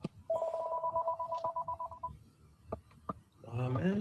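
A telephone rings in a Liberian talk-radio studio, a steady warbling ring lasting about two seconds, followed by a few sharp clicks and then a voice speaking close by.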